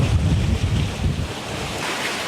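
Wind and breaking waves roar steadily around a sailboat well offshore on a passage from San Juan toward Great Inagua, a dense, continuous rush of wind noise and surf with no voices.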